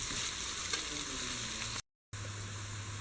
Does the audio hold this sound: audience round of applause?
no